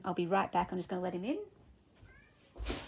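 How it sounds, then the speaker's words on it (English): A house cat meows twice in a short, high, faint call while someone speaks nearby, then a louder thump follows at the end. "my cat is meowing"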